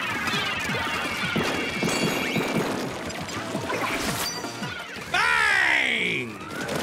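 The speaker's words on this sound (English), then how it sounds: "I'm spamming bombs for a minute to get my special meter up." Bombs exploding in the video game Splatoon 3, a series of splashy, wet bursts and crashes that ends in a loud rising blast, with a voice talking over the game sounds.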